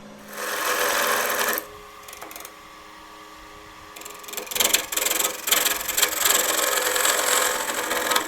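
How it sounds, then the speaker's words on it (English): A carbide scraper cuts a mesquite bowl spinning on a wood lathe, giving a loud steady scraping whir that drops to a quieter hum midway, then returns as rougher, intermittent rasping bursts. "Let's try this carbide scraper here."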